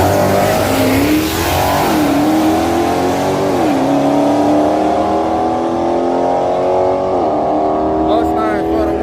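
Ford Mustang and a 392 drag racing at Yello Belly Drag Strip. Engines roar loudly with rising revs and gear shifts, and a voice talks over the noise.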